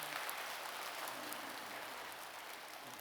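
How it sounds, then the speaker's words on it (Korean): A church congregation claps together during a service, a dense and even burst of applause that fills the room for about three seconds with no speech over it. "여러분 한번 옆 사람에게 박수 한번 쳐드릴까요?"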